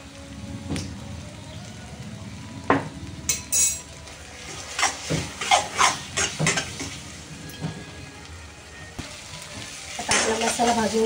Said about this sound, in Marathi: आता हे चांगलं असं परतून घेऊया. छान असं भाजून घेऊया.